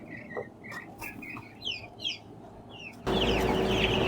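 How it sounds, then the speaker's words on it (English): Young chickens cluck and cheep in a run of short, chirpy calls scattered over a few seconds, fairly close, then a burst of louder, rougher noise takes over near the end. "Let's check on the grand chickens."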